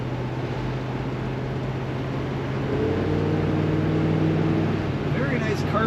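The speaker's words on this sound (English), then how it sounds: "Great rumble coming out of this car." A 1968 Chevrolet Chevelle convertible with automatic transmission rumbles low and steady while driving, the engine note rising partway through under road and wind noise, heard from inside the car.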